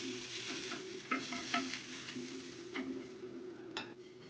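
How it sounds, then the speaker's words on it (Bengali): Nigella seeds frying in hot oil, a soft continuous sizzle with a few light clinks of a utensil against the pan, fairly quiet and without talk. "কালো জিরে দিয়ে দিলাম।"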